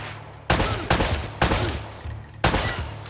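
Loud gunfire from the video game Uncharted: Drake's Fortune Remastered, four sharp blasts in about three seconds, shotgun and pistol shots over a steady low game hum.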